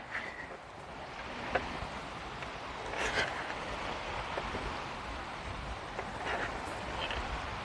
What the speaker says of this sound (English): Got the nice creek behind me.